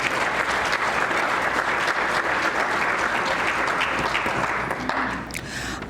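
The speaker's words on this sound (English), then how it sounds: "please give those supporters a round of applause" Sustained audience applause at a Nashville conference on African-American history and culture, a dense, steady clapping from a large crowd that holds for several seconds and then starts to taper at the end.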